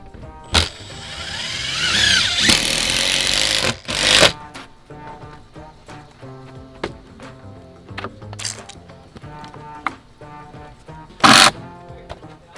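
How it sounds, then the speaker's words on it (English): A power drill drives screws into deck skirting: a sustained whirring burst, then repeated short whirs and sharp clicks of screws being started, close and fairly loud. "I like to get a couple screws started."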